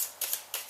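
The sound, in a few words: shuffling a deck of cards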